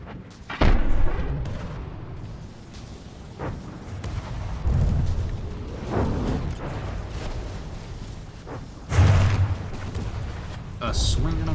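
Deep booming cannon fire from a cram cannon in the video game From the Depths, several heavy thuds spaced a few seconds apart, heard alone without talk.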